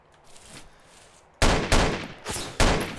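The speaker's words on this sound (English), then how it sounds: "we're gonna have a delayed little firefight here" Gunshots in a DayZ firefight: a faint distant pop early on, then four loud, close booming shots in uneven succession, each trailing off into echo.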